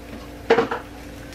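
A utensil scrapes the side of a pan while cauliflower fried rice cooks, two quick close scraping strokes over a low steady kitchen hum.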